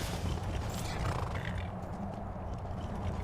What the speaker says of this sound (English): I can summon the horse inside.